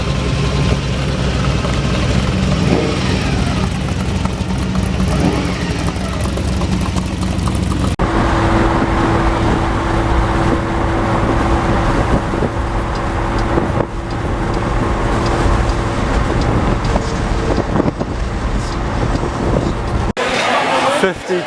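A car engine runs steadily at idle or low speed throughout, a heavy low rumble with a constant drone, while people talk loosely over it and the sound shifts in tone partway through.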